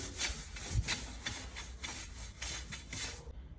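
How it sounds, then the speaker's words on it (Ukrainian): Brush scrubbing dirt off a car wheel rim before balancing, a series of rhythmic rasping strokes, close and fairly quiet, each stroke a short scratchy burst, with no voices. "Першим етапом ми беремо ось таку щітку та чистимо диск від бруду."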